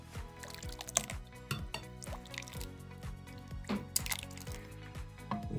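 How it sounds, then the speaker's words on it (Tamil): Rava dosa batter stirred in a bowl after water is added. Steady wet squelching and sloshing come in a loose rhythm, close up, with occasional clinks and no talking. "நல்லா கலக்கி விட்டுணும்."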